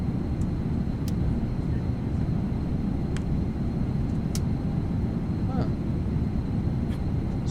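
Engine sound inside the cabin of a PMDG 777 airliner in Microsoft Flight Simulator 2024, heard as a steady, low, dense rumble with a faint hiss, unchanging throughout, with a few light clicks over the top.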